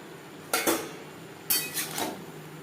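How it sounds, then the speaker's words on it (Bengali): A spoon scrapes and clinks against a pan as chicken is stirred with onion and tomato for chichinga bhaja. There are two distinct clattering strokes about a second apart, close and fairly quiet, with no talk. "পেঁয়াজ টমেটোর সাথে চিকিনকে বেশ ভালো করে মিক্সড করে দেবো"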